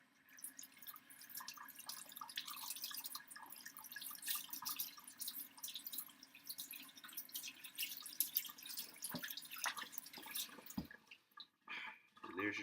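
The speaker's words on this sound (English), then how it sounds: "Wash your fillet." Tap water runs steadily into a sink while a crappie fillet is rinsed under it, a continuous close splashing trickle with faint drips, ending with a few handling sounds.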